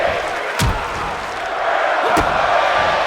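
Arena crowd noise from the WWE 2K24 wrestling video game, set at Full Sail University during an NXT match, a steady dense murmur punctuated by two sharp ring slams, with commentary voices over it.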